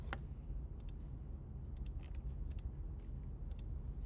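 A few sparse clicks from a computer keyboard, short taps in small pairs spaced about a second apart, faint over a steady low room hum.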